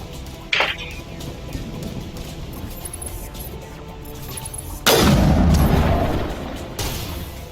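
Heavy artillery fire in a war shooter video game, a sudden deep boom at about half a second followed by a louder, sustained blast and rumble later, all over a constant battle background.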